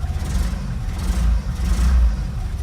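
An Opel Manta engine with a carburetor problem runs rough close by, a loud, uneven low rumble that surges and sags with no talk over it.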